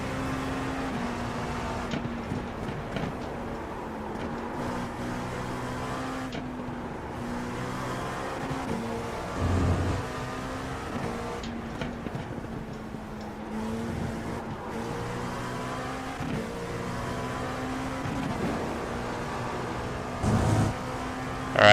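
GTP prototype race cars in iRacing at Spa-Francorchamps, a steady droning engine note with shifting pitch and occasional louder passes, distant tire noise, no talking.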